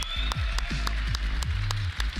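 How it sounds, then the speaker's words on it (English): An esports crowd at the ESL One Stockholm 2022 Dota grand finals applauds in a short burst of rhythmic, evenly spaced clapping over a low musical hum. "Can we get a round of applause for SVG,"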